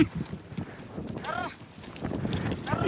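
A Mongolian horse's hooves clip-clop quickly on the ground nearby while people talk and call out over the hoofbeats.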